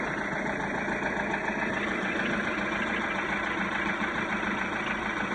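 A MerCruiser 3.0 TKS four-cylinder boat engine idles steadily and loudly up close, a constant dense rumble with no speech over it.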